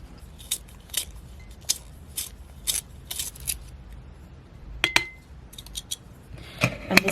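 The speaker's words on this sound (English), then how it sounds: "I think I need to sharpen some of these pencils." Faber-Castell coloured pencils sharpened in a handheld pencil sharpener, giving a series of short crisp scraping bursts spaced a second or so apart, followed by a denser cluster of crackly grinding near the end.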